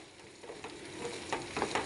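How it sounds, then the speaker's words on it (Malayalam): Pickle frying in oil in a pan is stirred, making a faint, steady sizzle with a few soft scraping strokes rising near the end, and no voices. "നമുക്കൊന്ന് ഇളക്കി കൊടുക്കാം നല്ലപോലെ."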